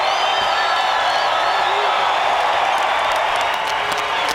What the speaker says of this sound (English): And the crowd giving him props for the effort.